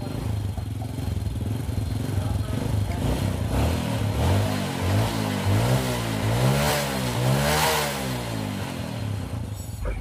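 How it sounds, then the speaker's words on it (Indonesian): A Honda Supra Fit motorcycle engine running near the microphone after being started, with a steady loud idle and clatter, rising and falling revs in the middle, and a slightly rough, sputtering tone. "terus kita coba starter"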